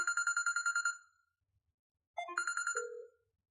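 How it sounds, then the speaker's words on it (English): A phone extension on a virtual office system rings electronically in two bursts of rapid trilling tones separated by a pause, the second ending in a lower tone, clear and alone. "You can see extension 102 is now ringing."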